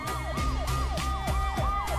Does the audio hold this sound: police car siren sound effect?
yes